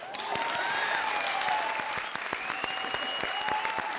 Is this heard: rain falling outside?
no